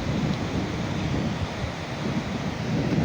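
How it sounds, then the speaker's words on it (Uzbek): A river waterfall rushes in a continuous, loud, close roar of churning water with a deep rumbling low end, steady throughout without voices. "Mana shuni Sharshara demaymi? Daryoni Sharsharasi mana shu."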